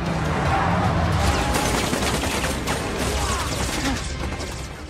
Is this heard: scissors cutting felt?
no